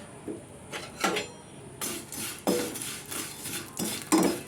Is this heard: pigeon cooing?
no